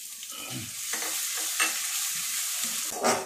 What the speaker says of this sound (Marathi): हे अद्रक आणि मिरची टाकून द्या, आणि तिला पण जरा चांगली सातडून घ्या तेलामध्ये